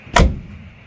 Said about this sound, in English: Closes like an old car.